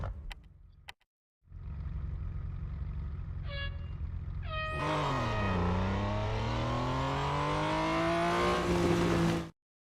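A race car in the Real Racing 3 video game revs up and accelerates. The engine note climbs steadily and loudly over several seconds, then cuts off abruptly.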